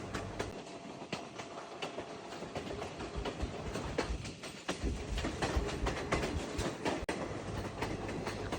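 A train on the Colombo to Ella line in Sri Lanka rumbles steadily, with wheels clattering over the rails and carriages rattling in a continuous loud roar, no voices.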